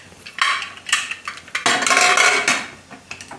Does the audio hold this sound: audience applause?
no